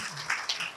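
Audience applause welcoming Dr. N.P. Singh at a basic education school managers' gathering in Ghaziabad, a short, fairly faint wash of clapping with a few louder claps standing out, no voices over it.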